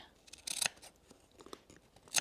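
Scissors snip through fabric while a crossbody bag is being sewn, giving two crisp, close bursts of cutting at the start and end with faint rustling between.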